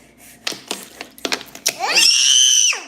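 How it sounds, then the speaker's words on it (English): A child lets out one loud, high, sustained scream that lasts under a second, right after a run of sharp knocks and short shuffling noises. "Why are you screaming?"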